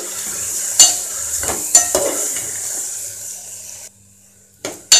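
Onions and cucumber pieces fry in a pan with a tempering of spices, a steady close sizzle broken by sharp scraping stirs of a utensil, briefly dropping away before resuming.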